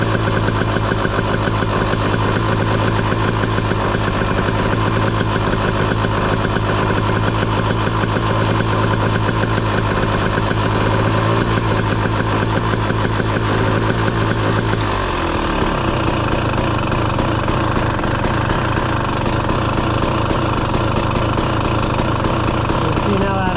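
2023 KTM 300 XC motorcycle engine idling up close, a loud steady buzzing drone that drops in pitch partway through and settles into a lower idle, with a voice talking over it.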